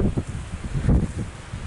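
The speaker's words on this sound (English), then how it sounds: "A bit windy today, isn't it?" Wind gusting and buffeting the microphone, low rumbling bursts that rise and fall unevenly, close and steady throughout.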